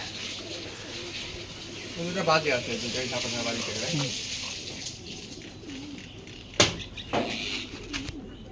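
Domestic pigeons released from a rooftop loft coo in low, rolling calls, followed by sharp bursts of wing claps as the flock takes off, with faint voices in the background.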